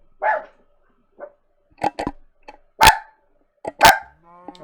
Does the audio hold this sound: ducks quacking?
no